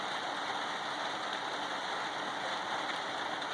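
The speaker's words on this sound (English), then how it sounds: "it's still raining, as you can hear" Rain falling outside, a steady dense hiss of drops that stays even and unbroken throughout, with no voices.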